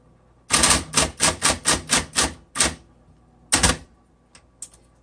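Keys on an SC Coronet Super 12 electric typewriter strike in a quick run of about eight sharp, loud, close clacks, then a pause, another strike and a few faint taps.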